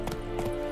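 A couple of quick hoofbeats from a horse in The Witcher 3: Wild Hunt, close and moderately loud over a steady game ambience, with no talking.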